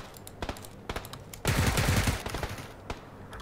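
Gunfire in the video game PUBG Lite: scattered single shots, then a dense rapid burst of automatic fire, then a few more isolated shots, loud and close.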